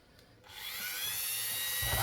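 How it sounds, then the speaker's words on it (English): A Dremel rotary tool spins up from quiet and keeps a high, steady whine close by while a ring is shaped from a Georgia quarter dollar coin. "Dave the Dremel"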